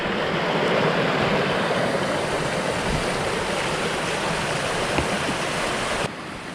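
A wilderness creek flows steadily nearby, a continuous broadband rush of water that stays at an even level throughout with no voices.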